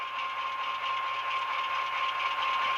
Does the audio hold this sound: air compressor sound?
yes